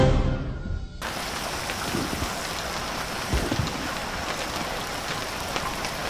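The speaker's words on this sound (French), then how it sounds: "La pluie s'est un peu calmée, mais il tombe encore une petite bruine" Light drizzle falls steadily in the survival game Stranded Deep, set on a remote island, a soft even patter of rain that holds at one level throughout, with no voices.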